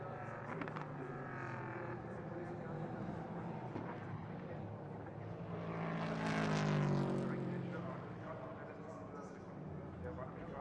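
Prototype race cars at the Nürburgring circuit during qualifying, engines droning at a distance before one swells loudly past and fades, with a commentator talking throughout.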